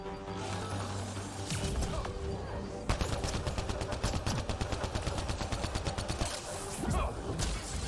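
Sustained automatic gunfire in the sci-fi shooter Mass Effect Andromeda, loud rapid bursts of shots with a heavy impact near the three-second mark, continuing steadily under game music and effects.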